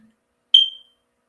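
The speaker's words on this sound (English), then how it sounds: "What's the other fire alarm? I heard beep too." A single short, high electronic chirp from a fire alarm, sharp and fairly loud, fading quickly and standing alone in near silence.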